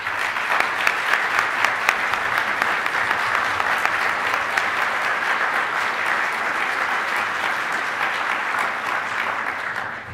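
Steady, full applause from an audience at a 2010 climate leadership awards ceremony, sustained evenly for about ten seconds with no talking over it.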